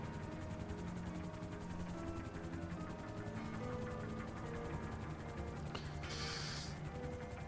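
A helicopter being set down and left in place, its steady rotor and engine drone holding at a constant level throughout, with a brief hissing burst near the end.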